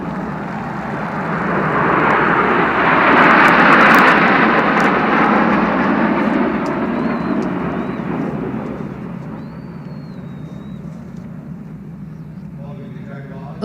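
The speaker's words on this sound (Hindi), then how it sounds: "इन जैगवार विमानों की रफ्तार 780 किलोमीटर प्रति घंटे की।" SEPECAT Jaguar jet aircraft in a flypast at India's Republic Day parade, a loud broad roar that swells to a peak, then slowly fades as the jets pass, with a commentator talking over it.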